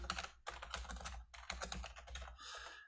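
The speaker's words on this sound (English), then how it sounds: "you're going to hear my typing a little bit." Rapid clattering keystrokes on a computer keyboard in bursts with brief pauses, fairly close and alone with no voices.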